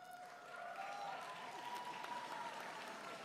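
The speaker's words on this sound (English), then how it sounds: "It's that applause thing" An audience claps at a university commencement as a school dean is named, with a sustained, moderately loud patter of applause and a faint tonal sound running underneath.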